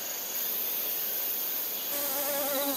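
Honeybees buzzing around flowers, a steady insect drone with a higher-pitched wavering whine joining near the end, continuous and fairly close with no voices.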